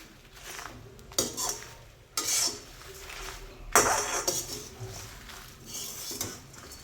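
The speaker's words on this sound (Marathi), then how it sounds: "अजून 2 ते 3 मिनिटं मस्त भाजत राहू आपण यात" Homemade biryani masala being stirred and roasted in a pan, with a spoon scraping and clinking against the metal in irregular bursts over a steady low sizzle, close and moderately loud.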